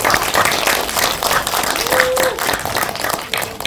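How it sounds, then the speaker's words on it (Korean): Audience at a Korean academy's university-admissions information session applauds steadily to welcome the main lecturer, a dense, continuous clapping lasting several seconds with a brief tonal squeal partway through. "큰 박수로"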